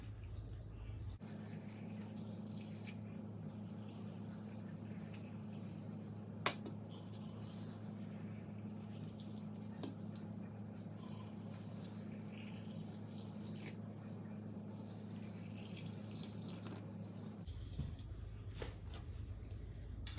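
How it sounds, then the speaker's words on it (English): Water steadily pours into canning jars of green beans for pressure canning, a continuous low running stream with a faint clink partway through, alone and fairly quiet. "filling the jars with water"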